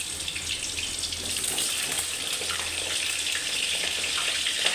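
Pointed gourd (potol) pieces frying in hot oil in a kadai, a steady broadband hiss and crackle that holds fairly loud and continuous, with a faint low hum underneath and no talking.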